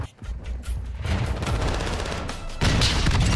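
A flash grenade goes off in a Call of Duty Modern Warfare 2 quickplay match, a dense burst of close, loud gunfire and impacts that steps up sharply in level partway through, with no voices.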